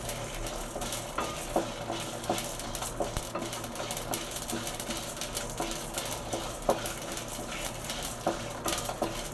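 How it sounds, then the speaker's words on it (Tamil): Spices and dried chilies are dry-roasted in a pan for onion tamarind kuzhambu. Continuous close scraping and rattling from stirring repeats in quick, uneven strokes, with a faint sizzle and a low background hum. "இப்போ இந்த அளவுக்கு நம்ம நல்லா வறுத்துக்கிட்டோம்"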